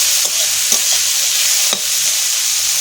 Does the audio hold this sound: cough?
no